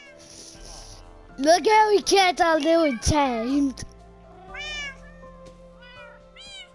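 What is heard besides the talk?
cats meowing in a pet store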